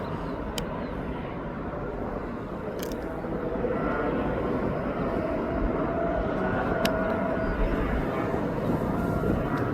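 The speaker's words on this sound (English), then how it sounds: "There goes the plane to Kos, put down in the one of the Greek islands." A Boeing 737 departing East Midlands Airport for Kos, a broad steady jet roar that builds slightly and holds for several seconds, heard from a distance outdoors.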